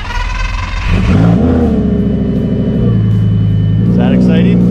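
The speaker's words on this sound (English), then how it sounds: "Here's a cold start." Lamborghini Gallardo engine cold starting with 94,299 km on it: a starter crank, then a loud, high idle that settles into a steady, close rumbling hum, with a slight rise in revs near the end.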